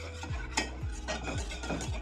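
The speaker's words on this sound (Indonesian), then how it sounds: "Langsung aduk" A chocolate pudding mixture with a pinch of salt is stirred in a pot, giving repeated soft scraping strokes in a steady rhythm, about one every half second.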